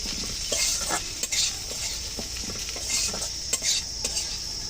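Green chillies and chilli powder frying in a pan, a continuous sizzle with repeated scraping and clinking of a spatula stirring against the metal, close and without speech.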